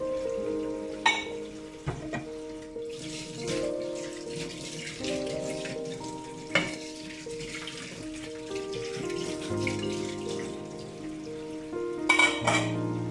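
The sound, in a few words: washing dishes and utensils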